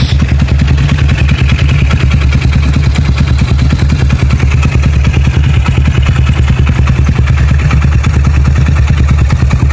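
A Honda Megapro motorcycle with a double exhaust runs steadily up close, its loud, rapid, chugging idle pulsing evenly throughout with no talk over it.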